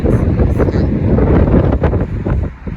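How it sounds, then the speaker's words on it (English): Strong wind buffets the microphone in a continuous low roar, loud and gusty throughout, with no clear speech. "it's so windy today"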